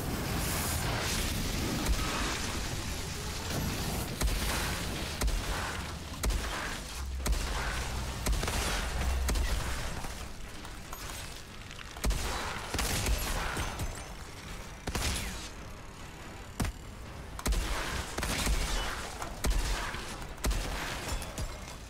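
Explosions, booms and bursts of gunfire from the shooter video game Outriders sound in dense, repeated volleys of varying loudness throughout, with no clear speech.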